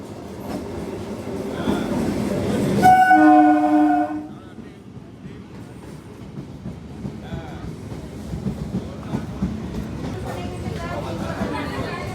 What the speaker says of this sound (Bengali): গাইস ট্রেন চলে আসছে,